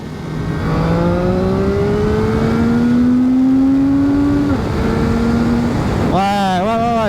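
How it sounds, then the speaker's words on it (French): A CF Moto 675 SR-R three-cylinder motorcycle engine revs up through the gears, pitch climbing steadily with shifts, loud and close throughout, ending in a quick burst of throttle blips. "c'est un moteur qui s'exprime clairement plus dans les tours, façon un peu 3 cylindres Triumph"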